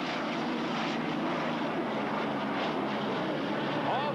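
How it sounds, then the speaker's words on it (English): Hydroplane race boats with turbocharged Allison engines roar at a race near the Ben Franklin Bridge, a sustained loud engine drone holding steady with some rise and fall throughout. "these boats powered by turbocharged Allison engines"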